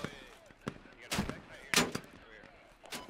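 Heavy gunfire in a squad-based military shooter game during an indoor building assault, with several loud sharp shots and bursts spaced through the moment, some close and some farther off, over a busy background with voices.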